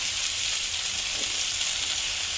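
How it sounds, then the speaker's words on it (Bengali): Garlic and onion tempering in hot oil for a home-cooked greens dish, a dense, even sizzle heard close up with no breaks for the whole short stretch. "বেশি করে রসুন আর পেঁয়াজ ফোড়ন দিলাম"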